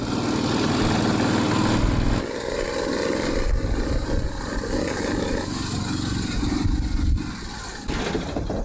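An Argo off-road utility vehicle engine runs at a low, rumbling idle on a homestead, steady with a few brief dips in level, moderately close and without speech.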